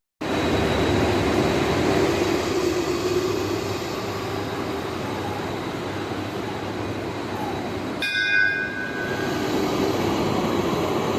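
A train pulling into a railway station platform, a loud sustained rumble and rolling roar close by, with a brief metallic squeal near the end; no talking.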